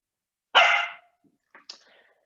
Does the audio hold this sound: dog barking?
yes